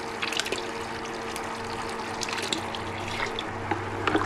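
Water drains from a tankless water heater during maintenance, a steady splashing flow with small drips and gurgles, close and continuous with no talk.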